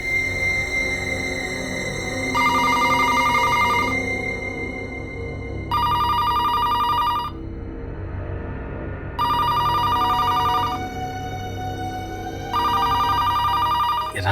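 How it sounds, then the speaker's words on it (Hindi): A telephone rings in four repeated bursts with pauses between them, loud and close over a low steady background hum. "रात को 3 बजे किसका फोन आ सकता है?"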